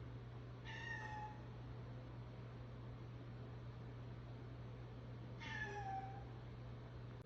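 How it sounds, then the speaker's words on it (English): A rescued stray cat meows twice in a new home, each call clear and moderately close, spaced several seconds apart over a steady background hum. "Then he started meowing."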